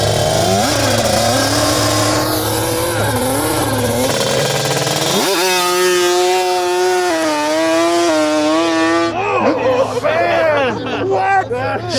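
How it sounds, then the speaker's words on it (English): A race-spec Yamaha Banshee two-stroke engine revs loudly, its high whine swelling and dropping through repeated throttle blips, with people talking nearby. "There's nothing like two-stroke brings up."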